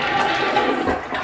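An American Standard Cadet toilet flushing close by with a loud, rushing swirl of water that continues throughout.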